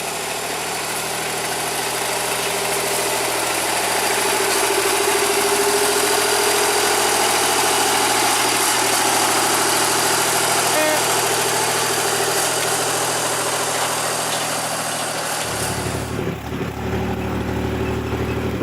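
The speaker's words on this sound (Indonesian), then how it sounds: "lokomotif D5 menarik rangkaian lori isiannya akan naik menuju jalur utama" A small D5 diesel locomotive hauls a train of loaded sugarcane carts, its engine throbbing loud and steady close by, the tone shifting lower near the end as it labours onward.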